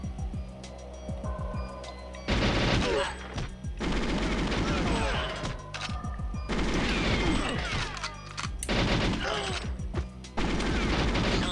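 GoldenEye 64 on the Nintendo 64: loud, nearly continuous rapid gunfire bursts with clanking mechanical game effects, dense and harsh throughout with only short dips between volleys.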